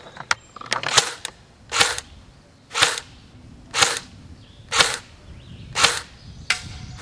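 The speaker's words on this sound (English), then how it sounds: "We're going to start out with the JG M16. Okay, first on semi-only," A JG M16 airsoft rifle fires single shots on semi-auto, about seven sharp, snappy cracks spaced roughly a second apart, close and clear with faint mechanical clicks between them and no speech.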